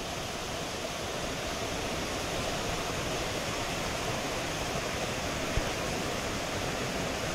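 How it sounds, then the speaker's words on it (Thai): Pha Tat waterfall, with water pouring down from many points, gives a constant broadband rushing roar, steady and even from start to end with no voices. "มีน้ำตกไหลมาจากทุกที่ทุกทางนะครับ"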